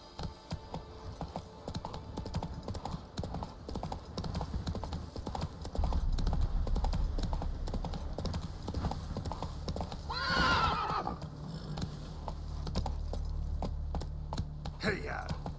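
The horse Roach gallops in The Witcher 3: Wild Hunt video game, with a rapid, steady clip-clop of hooves running throughout, a loud whinny partway through and jingling tack.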